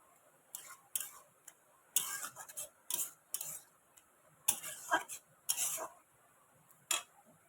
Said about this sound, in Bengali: এরকম নেড়ে নেড়ে কিন্তু লাল লাল করে একটু ভেজে নিতে হবে, মানে নারকেল কোড়াটাকে কিন্তু একদম লাল করে ভাজতে হবে।